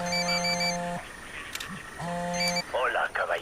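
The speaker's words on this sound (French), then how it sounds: "Téléphone. C'est pas un EEI. Ça sonne beaucoup trop." A phone rings in the Ghost Recon Wildlands video game, sounding as two loud electronic trilling bursts separated by a pause, with game sounds and brief chatter mixed in toward the end.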